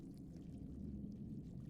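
Blood pours from a bleeding statue into a basin in Dark Souls III, a faint, steady low gurgling pour that runs evenly throughout with no talk.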